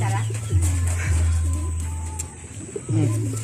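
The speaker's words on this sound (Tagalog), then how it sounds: "So ito yung mga kalapati dito." Pigeons on a rooftop cooing in repeated soft, throaty coos close by, with a few chirps and a steady low hum underneath.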